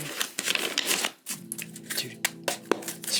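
A tarot card deck is shuffled by hand in quick riffling bursts with crisp card snaps, close up, as a faint hum runs underneath.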